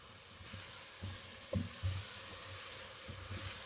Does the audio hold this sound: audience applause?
no